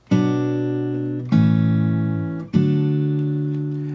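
Three strummed chords on an acoustic guitar, evenly spaced, each ringing out and slowly fading before the next is played.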